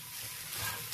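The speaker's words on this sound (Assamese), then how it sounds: "ইয়াতে মই কচু কেইডাল লাহেকৈ পেলাই দিলোঁ। অকণমান লেলেকাই ভাজি ল'ম।" Taro stems fry in a pan without oil, a brief, close, steady sizzle with faint stirring and no talk.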